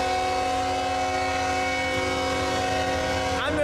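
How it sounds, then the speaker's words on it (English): A train rolls past close by on the tracks, its steady, loud horn-like tones and rumble sustained throughout, with a brief squealing sweep near the end. "we're not gonna get hit by this train that's coming by"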